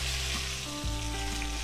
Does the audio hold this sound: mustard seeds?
yes